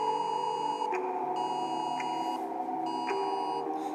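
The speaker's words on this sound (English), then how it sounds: "Sorry, my phone went off." A phone goes off with a few short high beeps repeating about once a second over a steady background hum of streaming audio.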